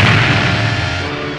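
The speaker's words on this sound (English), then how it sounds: "C-3PO watched as one of the Droid World cannons aimed at them and fired." A Droid World cannon fires a warning shot in a Star Wars audio drama: a loud, close booming blast that rolls on as a heavy, sustained rumble, with no voices over it.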